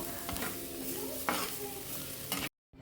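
Curry ingredients are stirred nonstop in a pan, the spoon scraping steadily over a soft sizzle with a few sharper scrapes, before it cuts off abruptly near the end.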